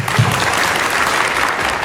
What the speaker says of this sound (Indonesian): Beri tepuk tangan buat kalian semua.